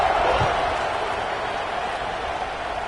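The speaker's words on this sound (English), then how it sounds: "this crowd is buzzing after that last score." A football stadium crowd buzzes after a score, a dense, steady roar of many voices that holds at a fairly loud level throughout.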